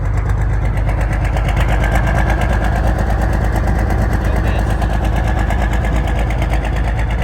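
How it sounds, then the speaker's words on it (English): A big diesel truck engine from a pulling truck idles steadily at about 1,000 RPM, a deep, loud, even rumble with a fast regular throb that never changes pace. "it's a big engine sitting here idling"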